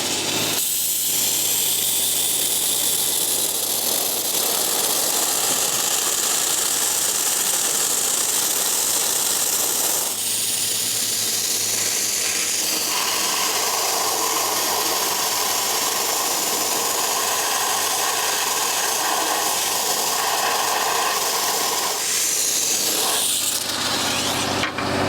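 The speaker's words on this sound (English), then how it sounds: "I'm not going to blast too long in front of the camera because it causes a lot of dust, but I'm using a really fine grit which is called Garnet" Fine garnet grit blasting an MGB cross member makes a loud, continuous hiss and roar that holds steady up close, with slight shifts in tone as the spray moves over the metal.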